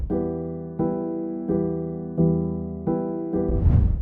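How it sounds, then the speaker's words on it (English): Dry progressive house synth chords play in a steady progression, each sustained chord struck cleanly with no reverb or echo, changing roughly every second. "So chords without effect sounds like this."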